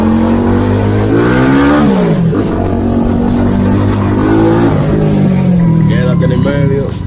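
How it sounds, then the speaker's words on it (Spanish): A CG200 motorcycle with its engine bored out to 300cc revs loudly and steadily up close, pitch climbing and dropping through several throttle sweeps, with someone talking over the engine. "Este motor anda bastante bien, mi gente."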